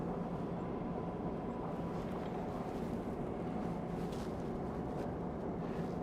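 A Long Island Rail Road train at Woodside station, a quiet steady rumble and low mechanical drone held evenly from start to finish, with no voices over it.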